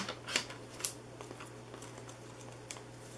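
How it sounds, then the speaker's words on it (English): Card strips being cut in half by hand with scissors, a couple of sharp close snips followed by faint scattered clicks and rustles over a low steady hum. "I'm just going to cut these in half at 3 inches"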